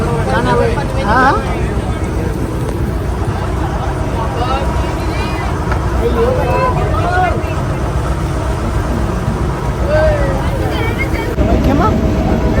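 A boat's engine drones steadily and loudly throughout a ride on the sea near Haji Ali in Mumbai, with people talking and chattering over it.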